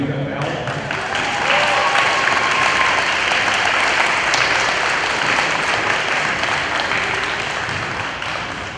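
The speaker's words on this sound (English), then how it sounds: "I wrote pause for applause here" Audience at a high school early college cording ceremony applauding steadily for about nine seconds, a dense, even wash of clapping from many hands filling the room.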